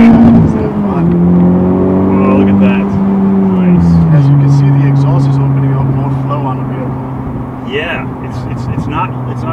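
A Honda Civic Type R engine idles and hums with a low, steady drone, its pitch dipping slightly as it settles, fairly close and moderately loud.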